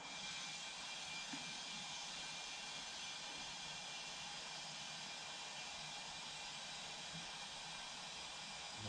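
Compressed air hisses steadily and faintly while filling a stubborn 25-year-old tractor tire to seat the bead, a constant broadband rush that runs unbroken throughout.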